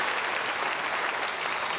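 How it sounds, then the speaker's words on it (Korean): A church congregation applauds the choir during a Sunday worship service, a dense, steady wash of many hands clapping at once that continues evenly throughout without pause. "찬양대에게 축복의 박수 보내겠습니다."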